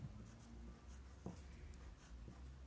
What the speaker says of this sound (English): Just going to write at the top